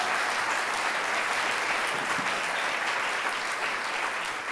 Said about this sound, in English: That alone gets a round of applause.